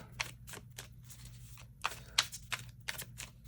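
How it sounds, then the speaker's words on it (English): Tarot cards are shuffled by hand in a quiet room, heard as a series of short, crisp riffling bursts spaced irregularly, soft and close with low background hum. "one more shuffle here."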